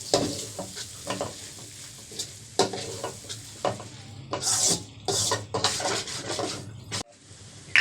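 Beaten egg sizzles in oil in a pan while a spoon scrapes and stirs through it in repeated strokes, the frying hiss swelling in bursts between the scraping.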